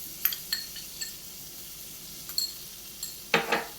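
Crushed garlic paste being stirred and sautéed in melted butter in a pan, with a faint, steady sizzle broken by a few light scrapes and clinks of the spoon and a louder clatter near the end.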